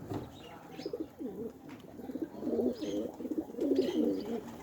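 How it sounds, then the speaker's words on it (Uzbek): Pigeons in Margilan coo in repeated soft, throaty rolling phrases at moderate distance, with faint wing flutters and light outdoor ambience beneath. "Hozir kaptar tobilanib, o'zi yakki uchyapti kaptar."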